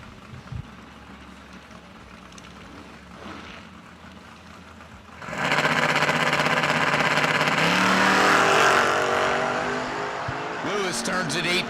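Drag racing cars, including a 1966 GTO, sit idling at a strip before engines erupt into a loud, sustained roar around the midpoint that builds and then fades, with voices present.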